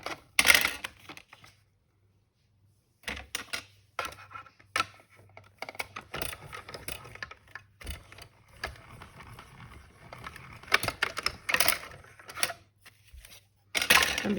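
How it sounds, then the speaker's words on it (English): A die cutting machine runs paper through in clunky, irregular mechanical clicks, cranks and rattles, starting with a short burst, pausing briefly, then continuing steadily; no speech. "Let's bring that in and die cut that now."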